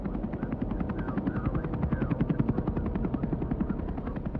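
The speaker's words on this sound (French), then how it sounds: "un hélicoptère emmène Louise Banks là où se trouve le vaisseau" A helicopter in the film Arrival carrying Louise Banks toward the alien ship, its rotor thudding in a steady rapid beat, loud and close, blended with an orchestral score.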